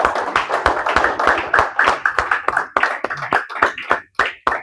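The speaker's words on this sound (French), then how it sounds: "Vous pouvez les applaudir s'il vous plaît." Audience applauding at a memorial gathering held forty days after a death in Ottawa, Canada: loud, close hand claps, dense at first and then thinning into scattered individual claps.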